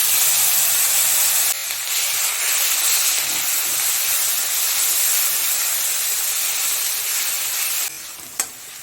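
Onion paste sizzles in hot oil for a Bengali koi fish curry, a loud continuous hissing fry close up that dips briefly partway through and softens near the end, with a small clink of utensils.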